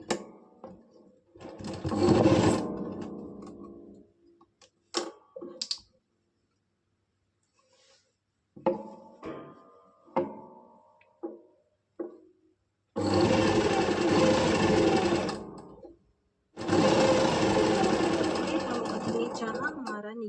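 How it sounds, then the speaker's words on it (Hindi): Sewing machine stitching a seam on a kameez, in two loud, sustained runs of close motor whirring in the second half, preceded by short bursts and handling noises with a voice speaking between them. "यहाँ से हम इसको स्टिच करना शुरू करेंगे"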